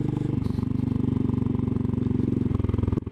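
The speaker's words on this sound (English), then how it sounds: "it's so nice to experience this on the back of a Royal Enfield." Royal Enfield Classic 500 motorcycle ridden over a mountain pass near an old lead mine, its single-cylinder engine thumping in a steady loud rhythm throughout, with a brief dip near the end.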